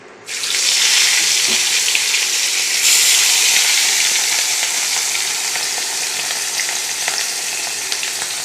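Pieces of gram-flour-based curry ingredients sizzle steadily in hot oil in a frying pan, a loud continuous frying hiss with occasional faint clinks, no talking.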